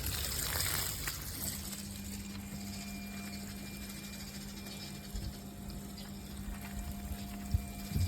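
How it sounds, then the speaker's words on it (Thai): Water runs out of the backwash pipe of a resin water-softener filter during regeneration, a steady rushing flow that is loudest at first and then settles beside a low mechanical hum. "น้ำก็จะออกมาที่ท่อแบ็กวอลเหมือนกันนะครับ"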